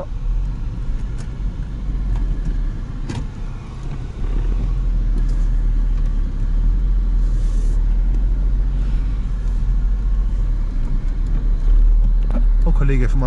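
A semi-trailer truck rumbles past on a narrow road, its low engine drone building and holding loud throughout, heard from inside a 1999 VW Lupo 1.0 MPI.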